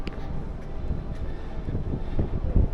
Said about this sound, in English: it's probably going to be very windy up here